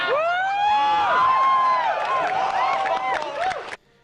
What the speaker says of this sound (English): just take a look at this crowd over at E3 2001